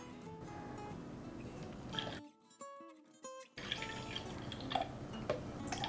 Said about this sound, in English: Okay, so I'm gonna pour some milk.